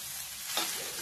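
Sabudana khichdi roasts in a pan, a brief steady sizzle with a single stirring scrape near the middle, close and fairly faint.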